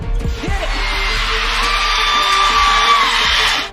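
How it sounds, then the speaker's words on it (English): Basketball arena crowd at a WNBA game erupts in cheers and whoops after Caitlin Clark's step-back three-pointer against the Lynx, a loud, sustained roar of many voices with scattered yells rising over it. "The crowd was on their feet, cheering Caitlin."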